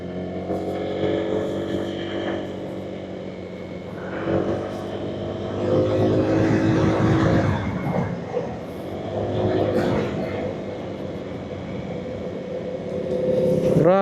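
A Honda Click 160 scooter accelerates during a ride test, its engine rising and falling in pitch through several revving surges, close and loud, with wind rumble and a rider talking at times.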